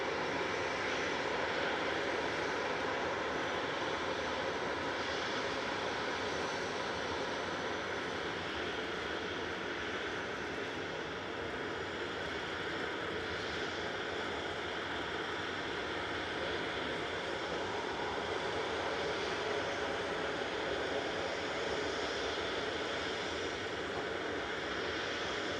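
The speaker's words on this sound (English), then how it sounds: "Aer Lingus is about to touch down" An Aer Lingus airliner on final approach to touchdown at Manchester Airport gives a sustained, loud engine roar and airy rush that holds fairly even throughout, with no voices.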